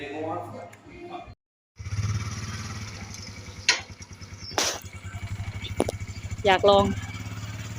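A manual-gear motorcycle idles and revs as it is ridden at a home, its engine putting out a steady low chugging pulse after a brief pause, with several sharp throttle surges, while people talk nearby.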